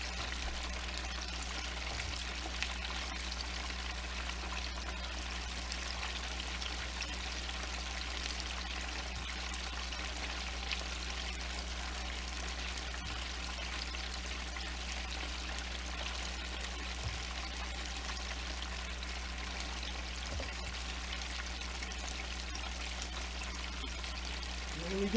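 Chicken wings fry in oil in a big Butterball turkey fryer, a steady close bubbling hiss like pouring water over a constant low hum, with faint occasional knocks.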